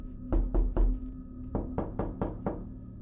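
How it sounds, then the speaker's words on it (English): Three sharp knocks on a door, a short pause, then five more knocks in quick succession, close and fairly loud. "a faint, rhythmic tapping coming from the door"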